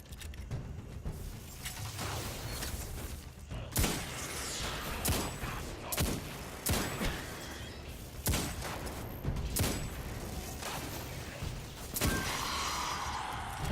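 Hand cannon gunfire in the video game Destiny 2 sounds as sharp, separate shots with a few seconds between them. Each crack rises over a steady background of game ambience and clanking mechanisms.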